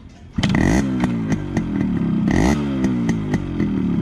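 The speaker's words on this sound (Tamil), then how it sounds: "இப்போ நம்ம வண்டியை வந்து கிக்கர் அடிக்க போகலாம்." A restored Yamaha RX100 two-stroke motorcycle fires on a single kick and settles into a loud, close, crackling idle with a couple of blips of the throttle.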